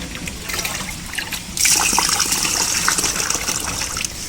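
Rice is swished and washed by hand in a clay pot, water sloshing and trickling close by, then a louder gushing pour of water starts halfway through and keeps splashing steadily.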